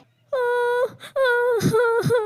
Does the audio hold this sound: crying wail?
yes